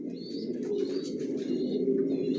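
Racing pigeons coo steadily in a loft, a continuous close layer of throaty rolling calls with a few higher chirps scattered over it.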